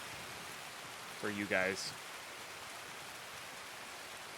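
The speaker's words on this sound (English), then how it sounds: "Oh, we got rain too." Steady rain falls in the video game Escape from Tarkov at night, a constant hiss that stays even throughout, while someone speaks briefly over it partway through.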